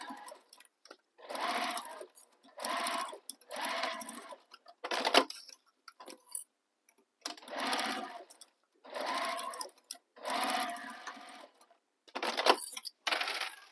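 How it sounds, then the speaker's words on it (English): A sewing machine top stitching down the long edges of a bag runs in about nine short, even bursts separated by brief pauses, close and clear with no talk. "Then what you're going to do is top stitch down both long edges"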